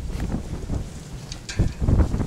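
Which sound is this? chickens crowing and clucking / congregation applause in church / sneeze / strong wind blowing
strong wind blowing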